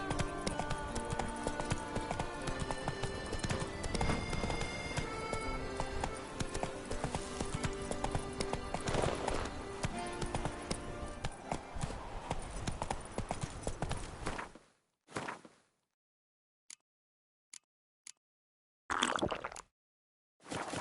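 Roach, a horse in The Witcher 3, gallops in a fast, rhythmic clip-clop that runs loud and steady for about fifteen seconds, then stops short and leaves near silence broken by a few isolated thuds.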